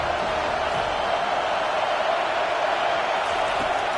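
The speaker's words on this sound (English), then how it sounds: "this crowd trying to help keep them there" Stadium crowd in a Madden football video game, a dense, continuous roar of massed voices holding steady at an even level throughout.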